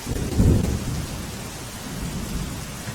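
Heavy monsoon rain in Navsari district pours steadily as a low rumble of thunder rolls in near the start, with no voices.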